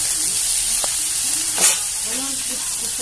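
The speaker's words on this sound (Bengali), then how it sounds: "এবার ভালো করে একটুখানি নেড়ে নিচ্ছি বাঁধাকপিটা, একটু ভেজে নেবো আলুর সঙ্গে" Cabbage and potatoes fry in a pan while being stirred, giving a steady close sizzle throughout with a few scraping stir sounds and a brief louder burst midway.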